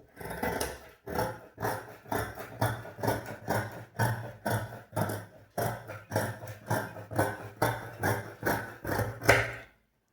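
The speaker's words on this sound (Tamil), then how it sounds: "இப்போ இந்த எக்ஸ்ட்ரா இருக்கிறத முதல்ல கட் பண்ணி விட்டுறலாம்" Scissors cutting blouse fabric during tailoring make a steady run of about twenty crisp, close snips in an even rhythm over a low background hum, with no talking.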